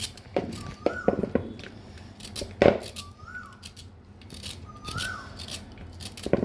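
A knife cutting teasel gourd (kakrol) for frying gives a few short, close crisp cuts and scrapes, spaced irregularly against a quiet background, with faint whistling chirps in between.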